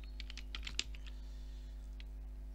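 Quick bursts of keystrokes on a computer keyboard while code is being typed, a short cluster of close clicks followed by a lone tap, over a faint steady electrical hum.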